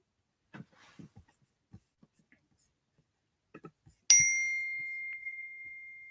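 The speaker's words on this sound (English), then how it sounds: "my computer is making notification sounds" A computer gives a bright, clear notification ding that rings out and slowly fades, following a few soft taps and quiet breathy sounds in an otherwise quiet room.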